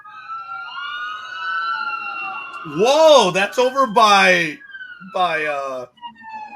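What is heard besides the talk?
emergency vehicle sirens outside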